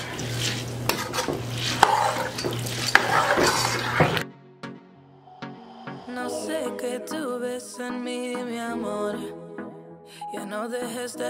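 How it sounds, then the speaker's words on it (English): Medium-grain rice seasoned with adobo is stirred in a pot, with busy scraping and clinking for about four seconds, then quieter tonal sounds take over. "You want to give it a good stir."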